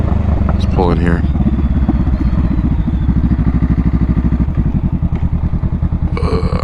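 A motorcycle on a Florida road pulling in and slowing, its engine loud and close with a steady, throbbing pulse that eases off over the seconds, mixed with wind buffeting and some clatter.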